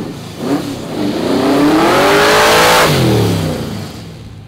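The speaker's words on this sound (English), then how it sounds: "this is my 66 El Camino powered by an Arias LS Hemi" A 1966 El Camino with an Arias LS Hemi engine revs up loud and close, its throaty V8 roar climbing in pitch, holding, then falling back toward idle.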